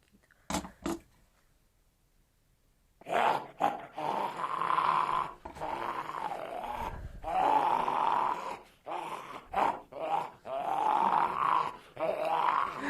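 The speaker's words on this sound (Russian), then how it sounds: "Зомби слышно." Video-game zombies in Pripyat give a run of loud, rough, drawn-out groans and growls after a short quiet start.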